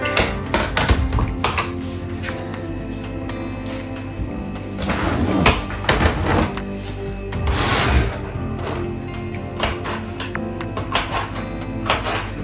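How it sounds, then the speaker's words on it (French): A knife chops a bell pepper into small pieces on a board while preparing pork with vegetables, giving a steady run of loud, close, repeated taps and knocks with heavier bursts throughout. "je vais bien couper ça en petits morceaux"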